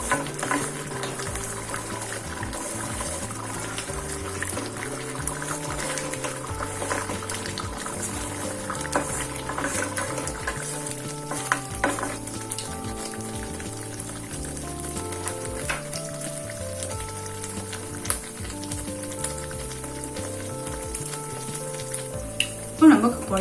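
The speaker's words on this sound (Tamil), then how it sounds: "பாருங்க ஃப்ரெண்ட்ஸ், இப்போ நம்ம குழம்பு எப்படி கொதிச்சிட்டு இருக்குன்னு." Pirandai kuzhambu, a Tamil tamarind curry made with adamant creeper, bubbles steadily in a pot on the stove. A continuous simmering hiss and burble runs throughout, with scattered louder pops and soft clinks near the end.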